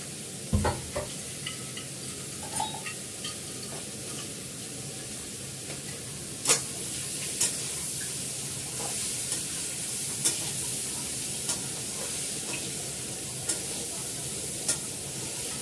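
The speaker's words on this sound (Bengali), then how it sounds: "সেদ্ধ ডালটা ঢেলে রাখি এর মধ্যে, তেজপাতা দিয়ে ফেলি।" Boiled dal with bay leaf sizzles in a pan on the stove, a steady hiss broken by regular spoon scrapes and taps against the pan as it is stirred.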